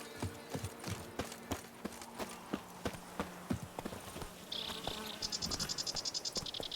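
Roach, a horse in The Witcher 3, trots with a steady clip-clop of hooves over a bed of chirping insects, joined near the end by a rapid pulsing buzz.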